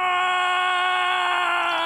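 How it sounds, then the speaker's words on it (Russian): A sustained, strained scream from a character in the Gwent card game, one steady high-pitched tonal cry held for nearly two seconds, loud and alone. "Врагов, видимо, пугает своими криками."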